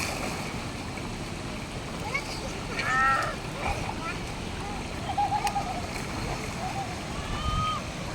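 Children swimming and splashing in a river, with steady rushing water, scattered splashes and faint distant voices throughout.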